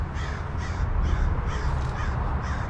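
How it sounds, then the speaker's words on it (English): Several crows caw repeatedly outdoors, harsh rhythmic calls roughly twice a second over a steady rumbling background, fairly close and without any talk. "Now those crows sure make a lot of racket."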